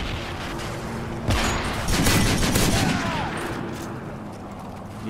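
Gunfire from Modern Warfare 3 gameplay: a burst of sharp shots at about 1.3 seconds, then a denser cluster of rapid reports around 2 to 3 seconds, with a steady background din throughout.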